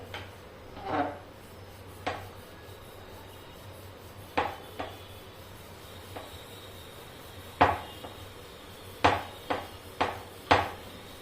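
A rolling pin rolls out soft moong dal puran poli on a board, giving a string of irregular wooden knocks and clacks, some close and crisp, with quiet pauses between them.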